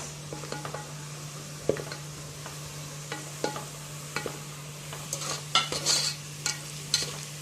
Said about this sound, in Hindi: बस हम मुसलसल चमचा चला रहे हैं ताकि ना जले ना कोई भी प्याज